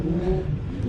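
A convoy of Japanese performance cars passes, a close engine droning and rising in a brief rev, steady and fairly loud.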